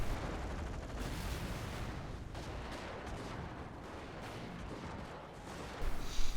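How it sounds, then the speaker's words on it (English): Mortar half-track firing in a video game battle, heard as a dense, continuous wash of gunfire and artillery rumble at steady loudness, with a sharper burst of fire near the end. "Mortar half-track is firing at something."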